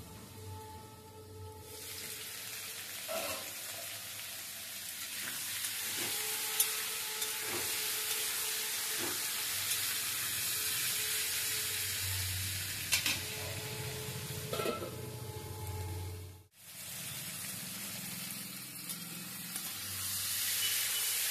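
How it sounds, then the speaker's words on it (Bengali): Pointed gourd (potol) frying under a lid in a covered pan gives a steady, close hiss and sizzle that runs throughout, with a few faint clinks and a brief dropout near the end. "এরপর ঢাকা দিয়ে দিচ্ছি, পটলগুলো একটু ভাজা ভাজা হয়ে যায়।"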